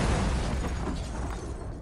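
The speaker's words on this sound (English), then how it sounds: "let's just take the buildings out. And blow up whatever that building is while we're at it." A building blows up in a drone combat video game, a single broad, dull blast rolling on and slowly fading over about two seconds, fairly quiet in the mix with no voices over it.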